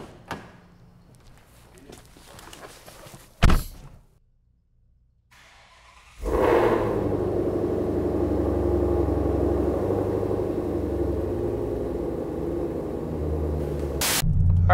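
2020 Ford GT500 on a test drive: after a quiet interior start with a door thunk, a loud, steady engine rumble and road roar rise and hold close inside the car.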